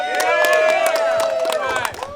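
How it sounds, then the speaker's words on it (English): Audience in a supercar showroom claps enthusiastically, a dense burst of hand claps with crowd noise and a whistle-like tone riding over the top, close and loud. "give him a hand of applause"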